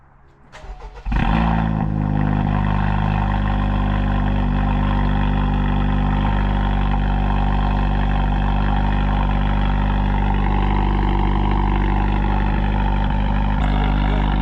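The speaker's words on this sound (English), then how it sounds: "First start with the catless downpipe. Let's see how it sounds." A 2025 Honda Civic Type R FL5 fitted with a catless downpipe cranks and fires after a brief lead-in, then settles into a loud, steady, droning idle with a deep low rumble that holds unbroken for the rest of the clip.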